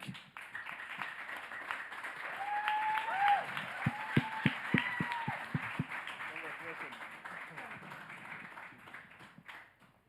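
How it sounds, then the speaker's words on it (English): Audience applause at a HealthTech Hub Africa launch event, a broad wash of clapping from a crowd sustained across the whole stretch, with a few sharp louder claps standing out near the middle. "Another hand of applause."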